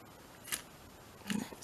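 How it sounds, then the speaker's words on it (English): A small pair of scissors snips during a junk journaling craft session, two short crisp cuts about a second apart, close and quiet with no talking. "I'll cut it off with a little pair of scissors in a sec."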